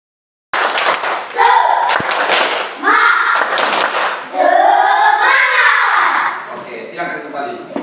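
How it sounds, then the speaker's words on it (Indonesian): A standing class performs a tepuk semangat chant, with bursts of rhythmic hand claps and thumps set against loud, chanting children's voices across several seconds. "Sebelum kita lanjut, kita tepuk semangat dulu"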